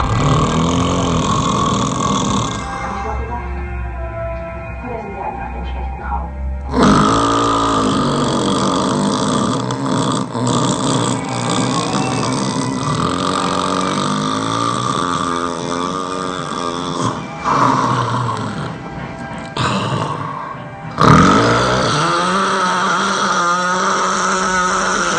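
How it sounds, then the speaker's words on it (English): A sleeping man snores loudly and close up in long rough rasping breaths, with a quieter pause partway through and heavy snorts returning. "his snoring is obviously bothering her"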